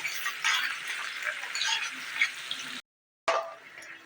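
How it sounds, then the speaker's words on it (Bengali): Chopped onions frying in hot mustard oil for biryani, a steady bright sizzle with stirring scrapes that cuts out briefly, then resumes. "পেঁয়াজগুলো ভালো করে ভেজে নেব।"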